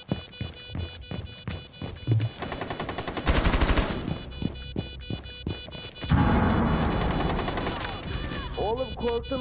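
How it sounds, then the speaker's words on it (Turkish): Automatic gunfire in the tactical shooter Rainbow Six Siege, with repeated sharp shots and bursts spread across the clip and several louder, denser volleys, while a player's voice comes through at times. "Tolya bana niye sıkıyorsun Tolya?"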